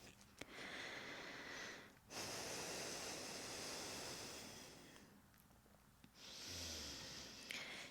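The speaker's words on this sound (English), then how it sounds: "Deep breathing in down dog." Slow, deep yoga breaths in downward dog pose, long airy inhales and exhales alternating in broad swells, close and fairly loud, with short quiet gaps between them.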